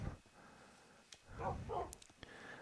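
Tamed dogs in the Minecraft video game, with a few short game-style barks and yips scattered over a busy, mid-level background of gameplay sound.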